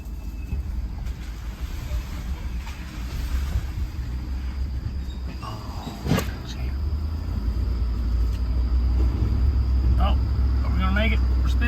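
A Ford truck in two-wheel drive pulls a load of hay with its wheels spinning, a loud low engine rumble and grinding drone that holds steady throughout, with people talking faintly over it.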